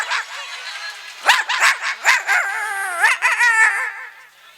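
A man on stage vocally imitating dogs fighting and barking, a quick run of yelps, snarling barks and whining cries in bursts, loud and close.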